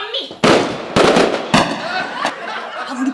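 Fireworks going off nearby as a few sharp, loud bangs with crackling tails, while people talk and exclaim over them.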